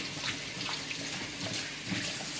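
Pork chop meat rinsed under a running kitchen tap, a short, steady splash and gush of water pouring over the meat, close and continuous.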